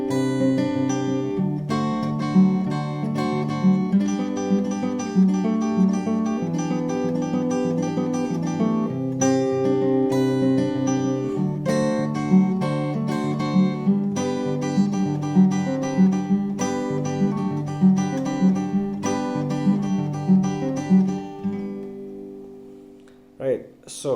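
Acoustic guitar playing a section of a song, a steady fingerpicked or strummed chordal pattern with a clear melodic top line, played alone and close for about twenty seconds before fading out.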